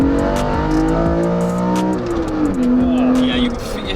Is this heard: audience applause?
no